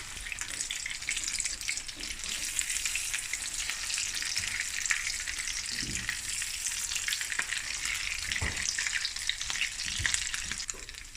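Pilchard frikkadels fry in a pan with a dense, steady sizzle and crackle, close and constant, with a few faint clinks and no talking over it.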